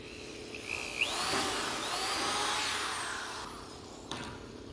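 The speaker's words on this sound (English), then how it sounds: "Make sure you keep the drill bit straight up and down." A power drill fitted with a 1/8-inch bit bores holes through sheet metal. The whine holds steady for several seconds and rises and falls as the bit bites into the metal, with a brief clatter at the start and near the end.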